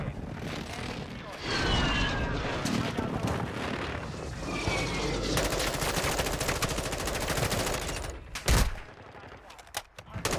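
Rapid bursts of M4 rifle fire in a Warzone 2 match, loud close automatic volleys with sharp cracks and echoing tails, mixed with game effects and a brief pause before a final blast.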